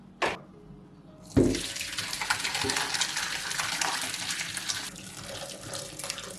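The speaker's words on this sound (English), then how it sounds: "We're gonna strain out the calendula dye bath now." Calendula flower dye bath liquid is strained, pouring in a steady, close gush of water with a splash at the start and a brief clink before the flow settles into a continuous rush.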